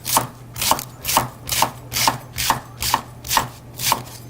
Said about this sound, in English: we're going to take the first layer off, and we're just going to nicely chop them